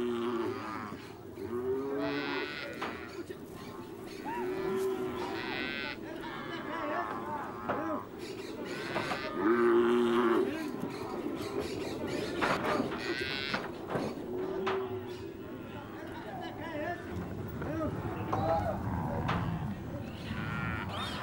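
Calves mooing repeatedly during a cattle branding in the Amazonian marshes, loud, drawn-out bellows from several animals overlapping amid general commotion.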